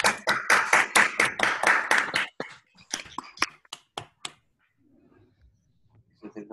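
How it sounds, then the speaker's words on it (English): Scattered hand claps from an online audience applauding at the end of a lecture over unmuted microphones, loud and close at first, then thinning into a few sparse claps with brief voices and near-silence. "Maybe we can all unmute and give Mark a big round of applause."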